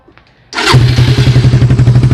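A Suzuki Raider 150 motorcycle starts with a sudden crank and catches into a loud, close idle, its engine pulsing in a steady rapid rhythm.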